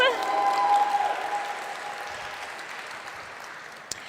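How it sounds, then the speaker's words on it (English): At a poet laureate swearing-in ceremony, the crowd applauds itself with dense clapping and cheering that gradually thins and fades, a voice whooping over the start. "Clap it up for yourselves."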